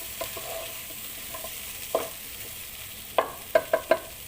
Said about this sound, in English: And then let's just saute this for another 2 minutes.